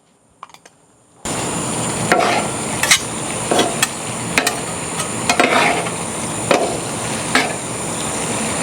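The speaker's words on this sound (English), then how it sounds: "Our final ingredients is our raisins and our Spanish olives. I'm going to go ahead and add those in. And then I'm going to stir it all around." Raisins and Spanish olives are stirred into picadillo on a Blackstone griddle. A loud, steady sizzle runs under repeated sharp scrapes and clacks of a spatula against the hot metal surface, all of it close to the mic.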